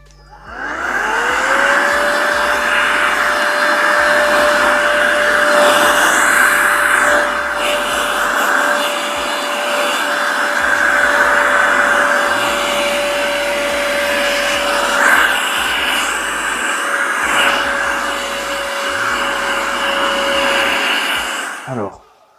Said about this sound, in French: Ça, c'est mon appareil pour nettoyer, pour souffler.